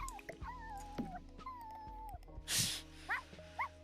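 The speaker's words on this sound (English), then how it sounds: "For a dog that does not have the vocal trait, Bella is very vocal." Bella, a dog in The Sims 4, gives several rising whines and short whimpering yips, then a few sharp barks close by, over quiet game background.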